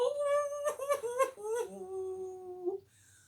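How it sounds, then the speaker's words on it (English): A dog howls by a squelchy bog, a drawn-out, wavering cry that rises and falls in several swells for about three seconds, fairly close and alone, with no talking over it. "Beside the bog stood a dog who was howling."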